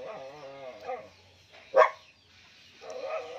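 A single sharp dog bark cuts through, loud and near, between stretches of quiet and faint background murmur.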